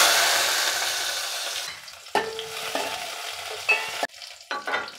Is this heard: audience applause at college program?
no